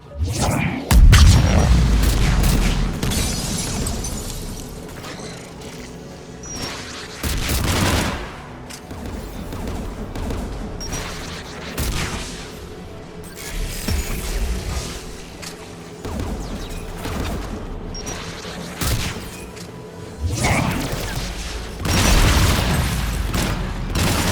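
Video game battle near a tower guarded by anti-aircraft guns, with bursts of gunfire and heavy booming explosions at intervals over a rumbling background, loud and close.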